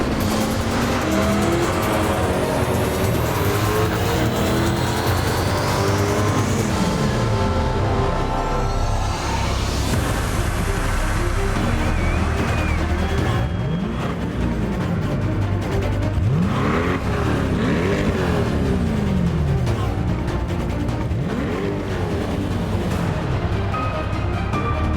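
The 2020 mid-engine Corvette Stingray is presented with loud, continuous engine noise throughout, with repeated swooping rises and falls in pitch like revving or cars passing, plus tire squeal and a constant heavy roar.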